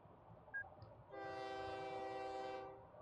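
A train in a railway video game starts blowing a loud, steady horn about a second in. The multi-tone horn holds for roughly a second and a half over a low rumble of rolling cars, then fades.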